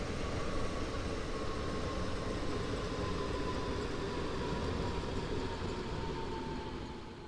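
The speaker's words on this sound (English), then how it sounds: "So another train coming rushing in there" A video game train in Train Sim World 3 on a German Rhein-Ruhr route rumbles past steadily and loudly, a continuous roar of wheels on rails with a faint high tone, fading slightly at the end.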